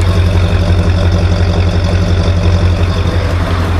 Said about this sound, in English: 1981 Ford LTD, 351 Cleveland.